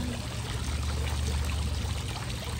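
Small water fountain in an outdoor courtyard, splashing and trickling steadily at a fairly faint level over a low background hum, with no talking.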